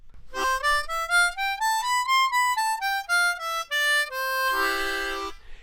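Harmonica in first position runs up a major scale note by note and back down, ending on a held chord, clear and close with no talking.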